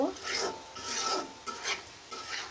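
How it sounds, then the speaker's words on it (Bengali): A spoon scrapes and stirs ground coriander, cumin, turmeric, chilli and garam masala sautéing in a pan for chicken curry, rhythmic rasping strokes roughly every half second over a soft sizzle. "ধনিয়ার গুঁড়া জিরা হলুদ মরিচ গরম মশলা দিয়ে ভালো করে মশলাটা কিন্তু আমি কষিয়ে নিব"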